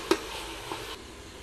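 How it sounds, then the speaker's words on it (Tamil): Ginger garlic paste sautés with onions in a pan for chicken biryani, a soft, steady sizzle close by with two brief clinks from stirring. "இப்போ இஞ்சி பூண்டு பேஸ்ட் நல்லா வதங்கிட்டுருக்கு."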